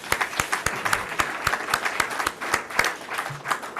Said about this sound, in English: So maybe a round of applause for our three presenters.